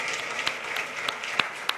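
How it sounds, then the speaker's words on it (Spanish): Audience applause at a Forex trading conference, a brief, dense wash of clapping with a few sharper individual claps standing out, moderately loud and steady throughout. "vamos a darle un gran aplauso a David"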